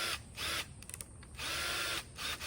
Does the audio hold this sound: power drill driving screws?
yes